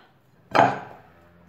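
A single clatter of a bowl and utensils being set down and handled while preparing no-bake Eid sweets with dates, fairly close and brief, ringing off quickly into quiet.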